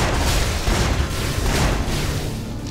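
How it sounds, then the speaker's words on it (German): Explosive shot blasts in the dungeon crawler Torchlight land as dense, booming bursts of noise, loud and continuous with a few heavier thumps, and no voice over them. "Oh, der Explosionsschuss frisst wirklich nicht so viel."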